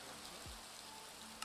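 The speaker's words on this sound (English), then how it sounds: "Oh, it's raining, I hate it here." Steady rain hiss in the Minecraft mod Cobblemon, a soft continuous wash of falling drops at low level with no voices over it.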